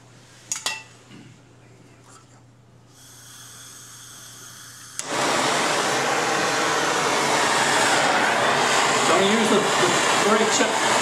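A torch roars on to reheat a steel awl slowly for tempering: a few quiet clinks and faint hiss, then a loud steady broadband rushing flame that continues to the end.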